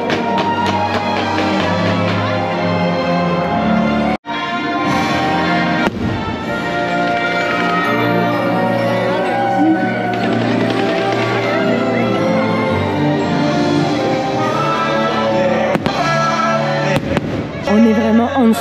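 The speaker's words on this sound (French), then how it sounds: "On est sous les feux d'artifice." Dense, continuous fireworks bursting nearby and overhead, loud booms and crackles layered over an excited crowd and voices throughout.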